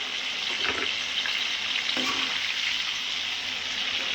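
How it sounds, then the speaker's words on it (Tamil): Ground masala paste frying in oil with brinjal for an oily eggplant kuzhambu, a constant close hiss and sizzle with a couple of soft stirring scrapes, and no talk. "நம்ம அப்படியே இப்போ மசாலாவை கொட்டிக்கலாம்"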